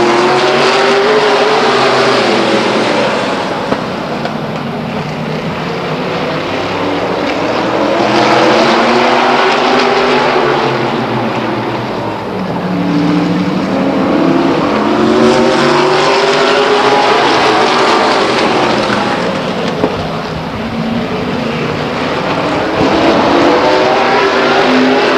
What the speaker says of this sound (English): We look like we're about to have a stock car race on our hands here.